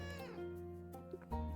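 A cat gives a single drawn-out meow, tonal and whiny, fairly quiet and close, followed by a shorter inflected mew at the end.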